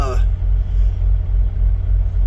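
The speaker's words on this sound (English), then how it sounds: "That's why I got the truck running" A semi truck's diesel engine idles at a Love's truck stop, a steady low rumble that continues evenly throughout, with a brief burst of voice at the very start.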